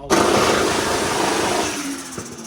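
A built RB25 car engine with a stock head and built bottom end, tuned to shoot flames from the exhaust, roars loud and close, then fades out over about two seconds.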